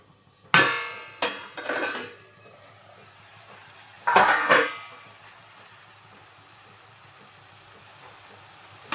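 A metal lid lifted off a pot of simmering cauliflower-stalk curry, giving a sharp clank, a few rattles, then another clatter several seconds later before quiet kitchen background.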